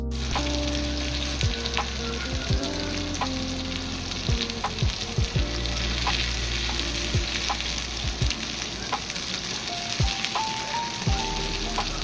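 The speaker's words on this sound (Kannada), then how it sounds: "ನೀವು ನೋಡ್ತಾ ಇರ್ಬೋದು ಫಿಶ್ ಫ್ರೈ ಕೂಡ ಇವಾಗ ರೆಡಿ ಆಗ್ತಾ ಇದೆ." Fish frying in hot oil in a pan at home, a steady close crackle and sizzle running throughout, dotted with small sharp pops and occasional faint clinks in the background.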